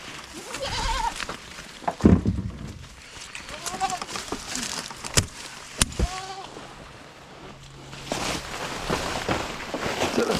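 Goats bleat intermittently on a countryside farm in Jamaica, several short wavering calls at close to moderate distance, mixed with outdoor background noise and people talking.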